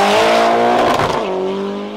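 Subaru sports car at a hill climb race, its engine holding a loud steady high-revving drone up close, pitch dipping briefly mid-run before settling again, with no talk.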